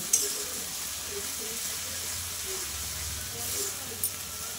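Spice paste sautéing in oil for a boal fish curry, giving a soft continuous sizzle and hiss with faint stirring scrapes and a couple of brief clinks, fairly quiet and close.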